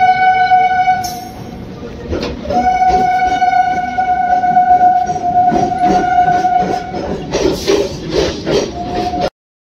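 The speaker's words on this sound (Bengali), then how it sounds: "এই যে ট্রেন ঢুকে গেল আমাদের" A train pulls into a station, its long sustained horn sounding over the steady rumble and clatter of rail cars, with brief bursts of rattling and screeching as it slows nearby.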